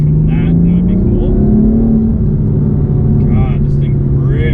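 A BMW M4 F82 with a Bootmod3 Stage 1 tune accelerating hard, a loud continuous engine drone rising in pitch through the gear, heard close from inside the car while people talk over it.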